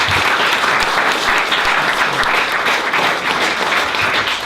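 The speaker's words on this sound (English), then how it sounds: "Let's give a big round of applause." A full audience at a community program breaks into dense, sustained applause, loud and close, with many hands clapping at once in an even wash of sound.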